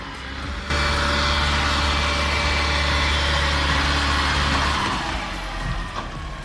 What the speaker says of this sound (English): The spinning cutter wheel systematically pulverizes stubborn stumps into fine mulch, layer by relentless layer